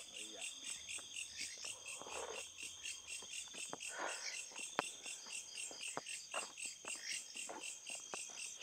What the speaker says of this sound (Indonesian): namanya juga malam hari Mas kameramen. Pasti ada suara jangkrik